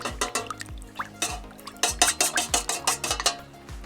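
A spoon stirring activated yeast mixture in a bowl while making croissant dough, producing a steady run of quick, close clinking and scraping strokes against the bowl, with no talking.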